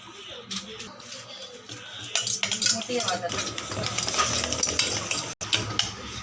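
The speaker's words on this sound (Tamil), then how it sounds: "இப்போ இத நல்லா நம்ம விஸ்க் வச்சு கலந்து விட்டுறணும்." Butter is whisked in a bowl with a metal whisk, making fast, rhythmic scraping and clinking strokes that grow busier and louder after the first couple of seconds, close up with no speech.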